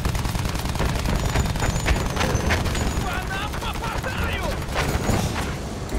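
Rapid machine-gun fire aimed at an airship in the Battlefield 1 video game, a dense nonstop barrage with booms and crackling shots under a player talking.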